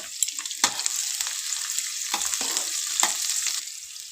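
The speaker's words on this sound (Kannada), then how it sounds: "ಈರುಳ್ಳಿ ಹಾಕ್ಕೊಂಡು ಚೆನ್ನಾಗಿ ಇದನ್ನು ಫ್ರೈ ಮಾಡ್ಕೋಬೇಕು" Onions fry in hot oil with cinnamon and cloves, giving a bright, continuous sizzle close by. Several sharp scraping stirs punctuate it, and the fading of the hiss near the end suggests the heat settling, with no voices.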